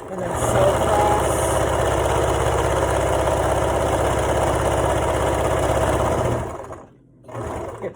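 Sewing machine stitching back and forth across fabric, a steady rapid mechanical chatter that runs continuously for several seconds before stopping briefly and restarting, with speech faintly present.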